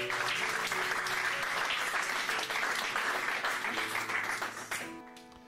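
A church congregation breaks into sustained, loud applause with cheering voices mixed in, steady for about five seconds before fading out, leaving faint music behind.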